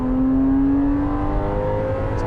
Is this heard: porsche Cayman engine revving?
yes